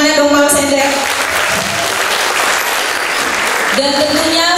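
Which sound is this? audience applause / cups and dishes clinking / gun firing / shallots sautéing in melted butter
audience applause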